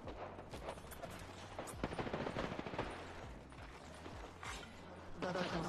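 Rapid gunfire in a French-language battle-royale shooter game, with bursts aimed at the player's character, dense mechanical rattling shots continuing throughout over game effects and music.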